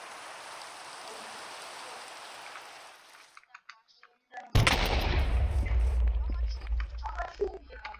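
Rain falling in the Minecraft video game, a steady broadband hiss that fades out midway, then returns loud and rumbling with low booming after a short quiet gap.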